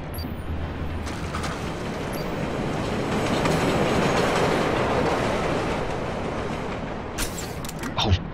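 A train rolls along rails in a rail transit yard in the Splinter Cell Blacklist video game, a steady broad rumble with clickety-clack and faint wheel squeal swelling and fading over several seconds, with brief sharp sounds near the end.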